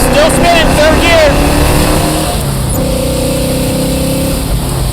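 A 1972 Chevelle with a 454 big-block V8 roars loud and close as it pulls through the gears, its engine note rising, dropping at a shift, then settling into a steady drone, with people talking over it.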